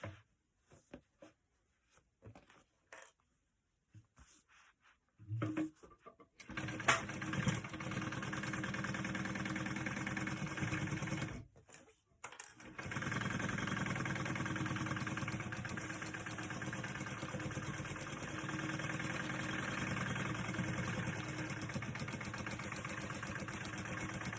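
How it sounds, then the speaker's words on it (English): Sewing machine basting a layer onto backpack fabric, running as a steady continuous motor hum with a few brief stops and starts, close and fairly loud, with no talk. "we're going to go ahead and baste that on"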